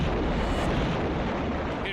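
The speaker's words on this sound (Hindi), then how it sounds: "फिर तोप का ऐसा जबरदस्त निशाना लगा रहे हैं कि दुश्मनों के परखचे उड़ रहे हैं" Ukrainian artillery cannon fire rolls out as a loud, sustained, broadband boom and rumble lasting a couple of seconds, heavy and close, with a roughened, wind-buffeted character.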